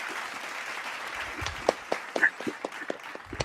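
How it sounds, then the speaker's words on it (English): A few scattered claps from a small group in a casual podcast-style room, sparse and uneven rather than a full ovation, lasting only a couple of seconds. "Can we just round of applause that shit?"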